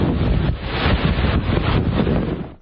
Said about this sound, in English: we're getting some pretty strong wind gusts here